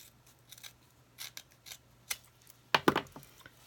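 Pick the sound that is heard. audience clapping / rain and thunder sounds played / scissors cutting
scissors cutting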